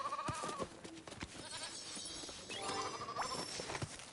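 Sheep in Lego Fortnite Odyssey give a few short bleats mixed with clattering game effects and busy background sounds, moderately loud, without speech.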